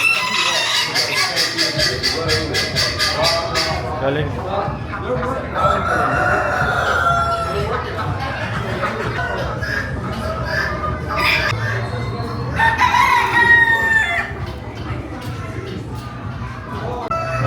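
A large rooster crows several times at an outdoor animal event in Bermuda, with clucks and squawks from other fowl mixed in and people chatting nearby.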